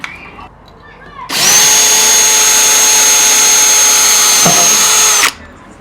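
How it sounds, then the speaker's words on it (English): A power drill boring a hole through a workpiece for a homemade reusable fire extinguisher, a steady loud whine of about four seconds that starts abruptly, holds an even tone, dips briefly near the end as the bit breaks through, then stops. "Now that we got our little hole drilled"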